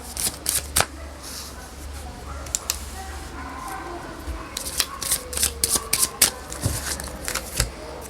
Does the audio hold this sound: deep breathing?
no